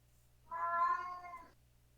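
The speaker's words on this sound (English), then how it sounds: "The cat." One clear, drawn-out cat meow lasting about a second, close and fairly loud in an otherwise quiet room.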